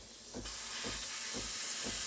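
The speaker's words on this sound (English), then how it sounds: "Steam turns on very quickly." The steam wand of a Breville Barista Pro espresso machine hisses steadily and close, a broad airy rush with a faint high whine running through it and soft low thumps recurring at regular intervals.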